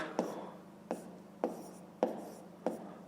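A pen writes numbers for a fifth-grade math exercise, making five short, close scratchy strokes at a steady, even pace with brief pauses between them.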